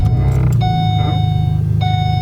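A steady electronic chime sounding inside a VE Commodore car, two clear tones about a second apart, each ringing on, over a loud low engine drone in the cabin.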